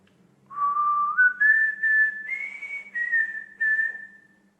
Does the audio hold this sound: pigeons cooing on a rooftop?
no